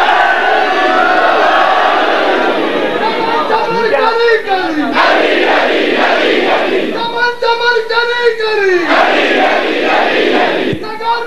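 A large crowd at a religious majlis gathering shouts a slogan in unison in repeated loud chanted bursts, with a leader's amplified voice calling between the responses.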